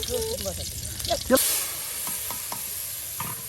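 Garlic paste hitting a hot pan, a sudden loud hiss and sizzle midway that settles into steady frying, with a voice speaking beforehand.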